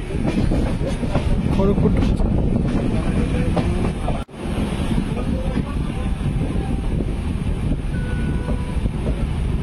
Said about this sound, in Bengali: সকাল 10:50 আমাদের ট্রেন এসে পৌঁছালো খড়গপুর জংশনে।